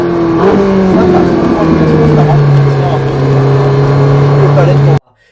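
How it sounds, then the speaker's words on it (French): Close up, a Ferrari 458 Italia engine revs loudly, then its pitch slides down as it decelerates and downshifts, holding a steady drone before cutting off abruptly. "quand tu accélères, tu freines, tu rétrogrades. Donc, bah, t'as le moteur qui s'enrage"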